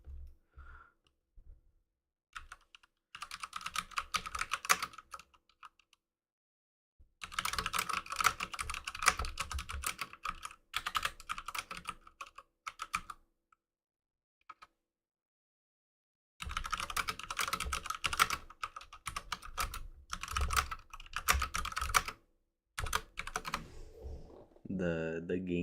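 Rapid typing on a computer keyboard during live trading, with dense bursts of clicking keystrokes separated by pauses, fairly close and steady.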